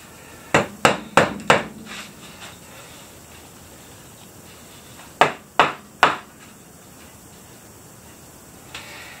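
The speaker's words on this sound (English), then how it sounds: "I got me trusted rubber mallet." A rubber mallet strikes a barnwood frame to tighten its joints: four quick, sharp taps, a pause, then three more, and one faint knock at the end. The blows are close and distinct, with no voices.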